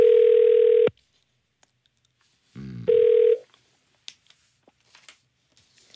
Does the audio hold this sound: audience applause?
no